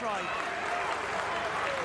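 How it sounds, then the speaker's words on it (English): Stadium crowd at a PRO14 rugby match between Benetton and Leinster at Stadio Monigo, a steady broad roar of cheering voices with a commentator talking over it throughout. "Crowd are lifted in spirit and voice at the Stadio Meningo"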